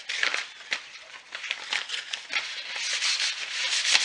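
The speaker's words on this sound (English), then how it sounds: "just rub over top of it just like you were sanding it, except you're not taking nothing off because it's not sandpaper" Stiff brown paper sack scrubbed back and forth over a wooden toilet paper holder, like hand sanding, giving a steady dry scratchy swishing with quick strokes that grows a little louder toward the end.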